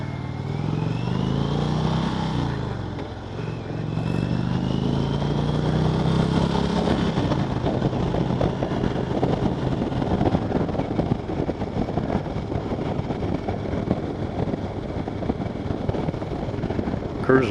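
A 2020 Indian Roadmaster Darkhorse cruising in fourth gear at about 2,500 RPM and 50 mph, with a steady, loud engine rumble under heavy wind rush throughout.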